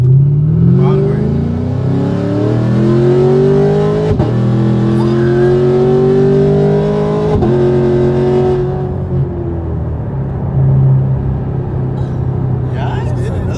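A Dodge Hellcat accelerating hard from inside the cabin, engine rising in a loud sustained roar through shifts with brief dips between gears, then easing to a lower rumble near the end.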